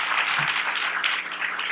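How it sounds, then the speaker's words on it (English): Audience applause for event partners at a women-in-tech welcome session at UCLA, a brief, dense patter of many hands clapping at moderate volume with no voices over it. "So hand clap for them too."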